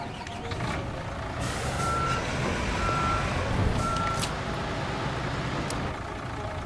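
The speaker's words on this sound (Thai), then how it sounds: "โอเคเดี๋ยวผมเอารถปูนมาเทนะ" A cement mixer truck in Construction Simulator reverses with three evenly spaced steady beeps over a low, continuous engine rumble.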